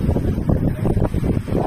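Strong wind buffets the microphone during pedal boating on Karanji Lake in Mysuru, a loud, continuous low rumble and roar with no voices.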